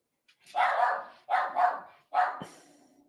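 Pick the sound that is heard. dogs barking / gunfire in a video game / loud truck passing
dogs barking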